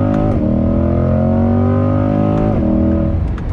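A Chevrolet Corvette C8 pulls hard in second gear from 4,500 RPM, its engine note climbing steadily and loud, with two brief dips where the revs catch before the pitch rises again near the end.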